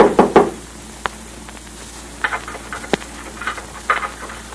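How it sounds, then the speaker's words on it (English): Knocking on a door in an old-time radio crime drama: a quick cluster of sharp raps at the start, then scattered single knocks and softer taps, close and dry with no voices. "Someone knocked."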